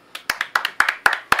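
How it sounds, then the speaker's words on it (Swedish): A handful of sharp, close hand claps in an uneven quick rhythm, more like a few people clapping than a full crowd. "En applåd."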